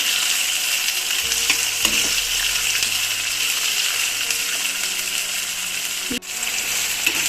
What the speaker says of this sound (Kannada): ಆನಿಯನ್ನು, ಗ್ರೀನ್ ಚಿಲ್ಲಿ ಎಲ್ಲ ನೀಟಾಗಿ ಫ್ರೈ ಆಗಬೇಕು